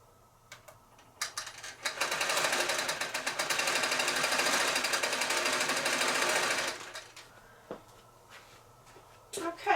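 A longarm quilting machine stitches binding onto a quilt with a rapid, steady needle chatter that starts after a few faint clicks and runs for several seconds before stopping, with quiet handling noises around it.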